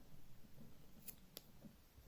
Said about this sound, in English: Take our scissors, snip a tail,